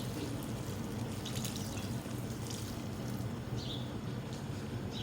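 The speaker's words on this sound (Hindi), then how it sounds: "ये राइस जिसमें मैंने बॉईल किए थे उसका बचा हुआ पानी है, मैंने निकाल लिया था थोड़ा सा। ये डालूंगी इस पर।" Leftover rice-boiling water is poured over layered chicken biryani in a pot, a steady wash of liquid splashing continuously with faint clinks, no one speaking.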